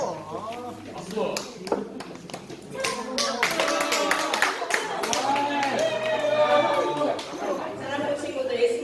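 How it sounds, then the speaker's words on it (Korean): A church service group claps in a lively, continuous patter of many hands, close and bright, with voices chattering and calling out over it throughout. "박수."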